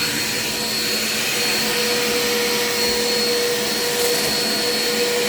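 A Dirt Devil Quick Power vacuum cleaner runs steadily and close by, a constant whining motor hum with a high airflow hiss and no voices.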